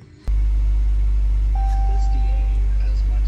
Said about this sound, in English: I'll go up to the front of the car, start her up